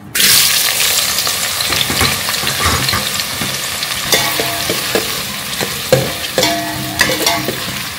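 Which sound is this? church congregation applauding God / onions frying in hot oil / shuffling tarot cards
onions frying in hot oil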